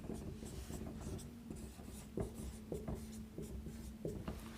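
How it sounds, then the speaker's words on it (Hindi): Marker or chalk writing a word on a classroom board, a series of short scratchy strokes and taps at close range with a faint hum behind. "जैसे एक वर्ड लिख रहे हैं"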